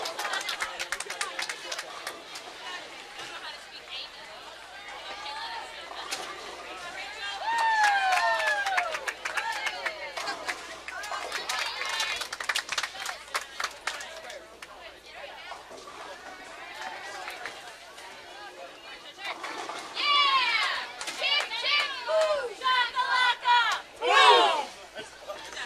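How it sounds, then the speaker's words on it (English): A crowd of parents at a collegiate bowling tournament cheering and shouting in waves, with scattered clapping and chatter, swelling loudly near the end over a commentator's voice. "And the crowd getting into it."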